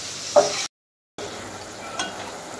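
Chopped vegetables sizzle and fry in a pan for pasta with spices, a soft steady crackle broken by a brief stirring scrape and a short silent gap, without any talking.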